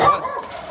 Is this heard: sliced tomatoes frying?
no